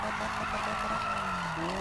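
A car slides in a racing video game with a long, sustained tire squeal over a steady engine tone, loud and close for the whole moment.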